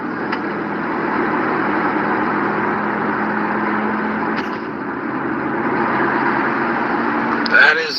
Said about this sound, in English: That is the sound of a bad fucking wheel bearing.